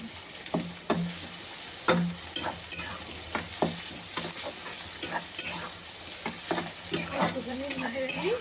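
Garlic and ginger paste sizzle steadily in hot oil for a mutton curry while a spoon stirs and scrapes the pan in regular strokes, close and clear, with no voices.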